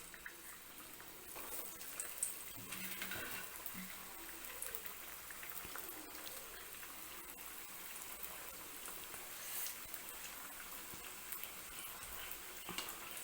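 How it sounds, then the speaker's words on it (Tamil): Leftover chapathi samosas frying in moderately hot oil, a faint steady sizzle and fine crackle that carries on throughout, quiet and close with no talking. "இப்போ நம்ம இதை எண்ணெயில் ஃப்ரை பண்ணலாம்."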